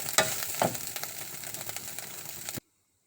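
Eel stir-fried with garlic in a pan, a close sizzle broken by two scraping stir strokes early on, then a steady fry that cuts off abruptly to silence near the end.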